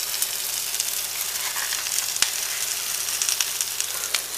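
Meat fries in a pan with onions, a steady bright sizzle and crackle with occasional sharp pops, close and continuous with no voices.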